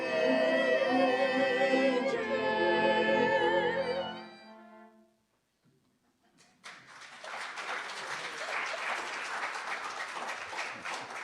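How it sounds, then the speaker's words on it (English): A synagogue congregation applauds musicians at a Yom Kippur morning service after a sung folk song fades out, with a burst of clapping that swells in and keeps going steadily after a brief pause. "we do applaud for you, but we don't applaud after sermons"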